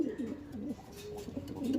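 A racing pigeon gives repeated low, rolling coos close by in a steady rhythm, with soft background noise and no talking.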